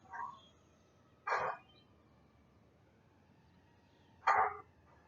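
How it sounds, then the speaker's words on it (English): Two or three faint, distant dog barks spaced a few seconds apart over a quiet background hum. "we got dogs in the back"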